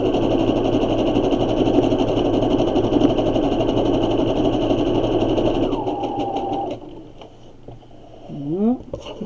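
A home sewing machine runs a zigzag stitch with a steady mechanical whir and rapid needle clatter for about six seconds, then stops, followed by quieter handling sounds and a short rising whine near the end.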